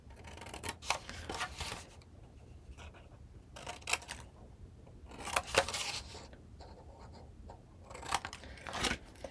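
Scissors snip through paper and scored cardstock while trimming pieces for a small 4.5 by 5.5 inch farm-themed mini album, the close, crisp cuts coming in irregular bursts with quiet pauses between them.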